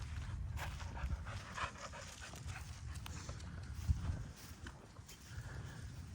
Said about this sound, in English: We're gonna hide out while these dogs are there.